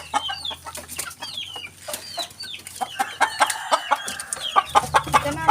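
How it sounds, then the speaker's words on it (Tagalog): Hens and a fighting rooster being fed, clucking busily up close in quick overlapping bursts with a few sharper squawks, continuous and fairly loud, with no talking. "yung isang manok na pwede siyang isabong"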